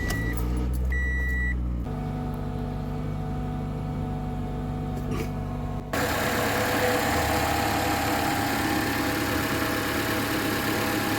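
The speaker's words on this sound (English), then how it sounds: "when you start it up, there's a lot of valve train noise" A Toyota engine idles at startup with valve train noise, giving a steady mechanical hum and ticking that shifts in character twice as it runs.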